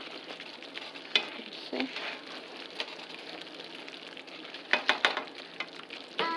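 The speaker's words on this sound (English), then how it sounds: "And stir it a little. It's like almost dried up." Green enchilada sauce sizzles and bubbles in a pan on a mid-heat stove while a utensil stirs it, with scattered scraping clicks over a steady frying hiss and a brief spoken word.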